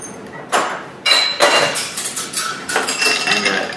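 A Tanqueray gin martini being stirred, with close, bright clinking and scraping of ice and metal against glass in a series of quick strokes, loud and without talking.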